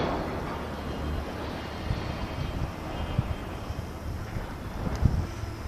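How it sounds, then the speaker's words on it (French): Steady breeze blows across the open harbour at Port Est on Réunion Island, a continuous low rush with soft gusts buffeting the microphone, and no voices. "À nos anémomètres favoris, il est marqué petite bise"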